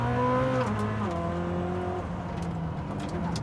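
Koenigsegg Jesko hypercar engine revving hard under acceleration, a loud continuous roar with rising harmonic tones that shift through gear changes, close and sustained with no talking.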